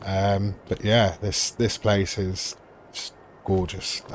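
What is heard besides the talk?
No distinct noise like a dog, phone or traffic.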